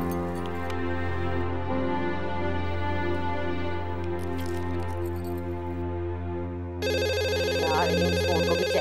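A telephone rings repeatedly indoors in a domestic scene, a steady electronic ringtone pattern that continues throughout with no talking.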